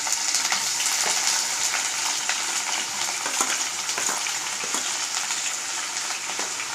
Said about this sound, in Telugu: ఆయిల్ వేడెక్కిన తర్వాత ఇందులో తాలింపు గింజలు వేసుకుందాం. ఇందులోనే వెల్లుల్లిపాయలు, అలాగే సన్నగా కట్ చేసి పెట్టుకున్నటువంటి ఉల్లిపాయ ముక్కల్ని కూడా వేసుకుందాం.